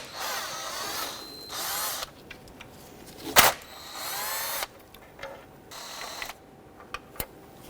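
Power tool whirring in short bursts as it loosens 8mm valve cover bolts on a 1997-2006 Jeep Wrangler engine, several separate runs with quiet gaps and small metallic clicks between them.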